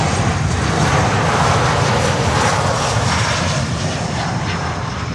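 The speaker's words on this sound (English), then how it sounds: "737 MAX 8" An American Airlines Boeing 737 MAX 8 jet at Miami airport gives a loud, steady roar close by, with no voices.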